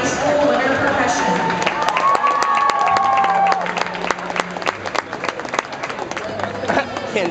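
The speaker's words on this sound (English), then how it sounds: "Another round of applause for Blue Spring South High School Winter Percussion" A large audience applauds and cheers for the Blue Springs South High School winter percussion group, loud continuous clapping and shouts heard under an announcer's voice.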